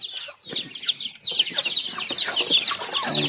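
Chickens clucking and cheeping continuously, several birds chattering at once nearby.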